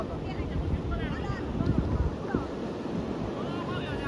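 Sea waves on the Konkan coast roll in with a loud, continuous wash and rumble close by, with wind buffeting the microphone and a person talking over the surf.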